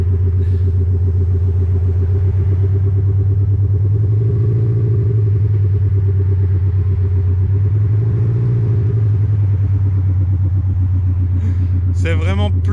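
Audi Q8 diesel engine with the Active Sound system switched on, giving a steady, deep idling rumble with a broad low hum that swells twice, ending with a brief higher burst.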